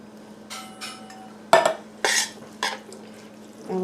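Undrained canned chili beans are poured into an enchilada casserole filling and stirred, giving a few wet plops and clinks of a utensil against the dish, close and fairly quiet, with no talking.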